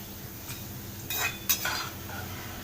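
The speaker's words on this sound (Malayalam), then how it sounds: "ഇത് നമുക്കൊരു പാത്രത്തിലേക്ക് കോരി മാറ്റാം" Fried ginger being scooped out of hot oil and dropped into a vessel while cooking a ginger curry, with soft background sizzle and two or three brief clinks of a ladle against metal, no talk.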